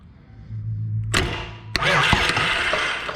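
A Bobcat 843 skid steer engine, with a freshly reinstalled flywheel and U-joint pump coupling, cranks briefly and then fires up into a loud, steady running roar close by.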